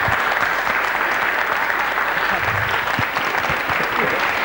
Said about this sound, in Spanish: ¡Un aplauso a Juan Ramón!